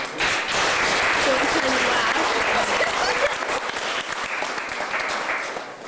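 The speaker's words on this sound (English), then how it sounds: "So you can give yourselves a round of applause." Audience at a school assembly in St. Thomas applauds steadily for about six seconds, a dense, loud wash of clapping hands that tapers slightly toward the end.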